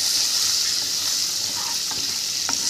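Curry leaves crackle and sizzle steadily in hot oil for a spiced Maharashtrian urad dal tadka, with a few soft stirring taps near the end.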